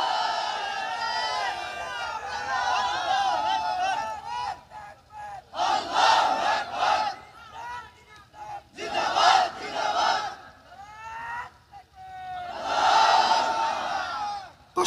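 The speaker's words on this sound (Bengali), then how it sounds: "কারা কারা দুই হাত তুলে আল্লাহর দরবারে স্লোগান দিয়ে দেখায় দাও" A large crowd at an outdoor religious gathering chants slogans in unison with raised hands, loud voiced bursts rising and falling in waves with short pauses between.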